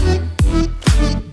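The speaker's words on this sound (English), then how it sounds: "And with the white noise," A synthesized impact hit layered with white noise, two loud, sharp bursts with bright noisy tails over a sustained tonal bed, close and alone.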